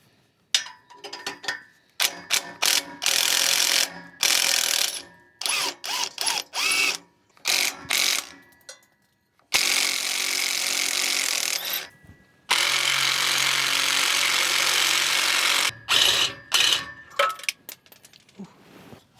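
Exhaust manifold bolts come out of a square body truck to loud bursts of a power ratchet or impact tool, some stuttering and short, others steady whirring runs lasting a few seconds, all close and without talk.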